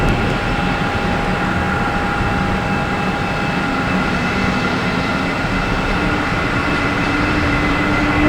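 An American Airlines Airbus A319 jet at Boston Logan Airport gives off a loud, steady engine roar with sustained whining tones. The roar holds constant for the whole stretch, with no voices.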